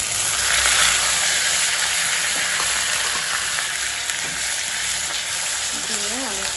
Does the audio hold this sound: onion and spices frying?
yes